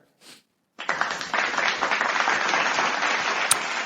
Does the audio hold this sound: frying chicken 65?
no